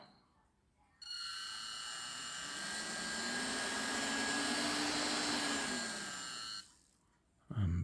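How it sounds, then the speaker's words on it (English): The small electric motor of a fan-driven RC car built from a nasal hair trimmer switches on, whines steadily at a high pitch for about five and a half seconds while slowly rising, then cuts off; close and fairly loud. "I suppose I could set the motor running as well. Right, got the motor connected up."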